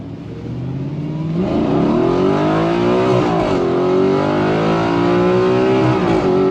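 An Audi R8 in sport mode revs hard with a loud, continuous engine roar that climbs and falls in pitch, heard close up with no one talking.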